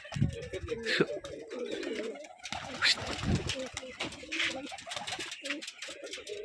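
Rajshahi gerebaj pigeons coo in soft, repeated throaty calls that carry on through the whole stretch, mixed with wing and movement noises. People talk nearby at the same time.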